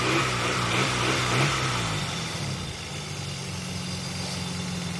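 An Opel Corsa fitted with a 3.2 V6 engine making 250 hp idles steadily after starting, a continuous low rumble close by that settles slightly after the first couple of seconds, with no talk.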